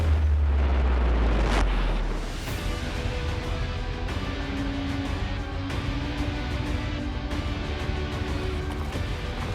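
A large bomb-proof test explosion at a bomb range booms loudly at the start, then a long rumbling roar and debris wash trail off into sustained outdoor noise.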